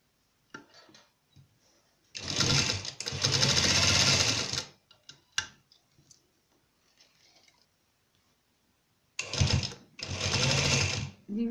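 A sewing machine stitching a trouser runs in two close, steady whirring bursts of a couple of seconds each, separated by quiet stretches with faint clicks and handling noises.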